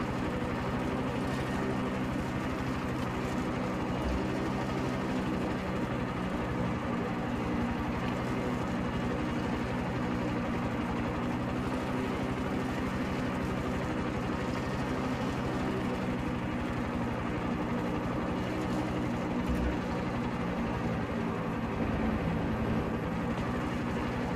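A helicopter flies in the video game Far Cry 6, its rotor and engine making a continuous, fairly loud droning hum with a low rumble throughout.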